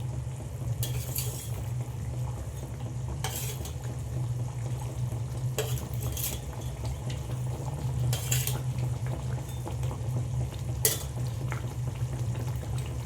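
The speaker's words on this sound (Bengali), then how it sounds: "এবার আমি মাছটাকে 5 মিনিটের মতো ঢেকে ফুটতে দিলাম।" Rohu fish curry gravy simmering in a covered pot, a steady low bubbling with a few sharp metallic clinks from a lid or utensil.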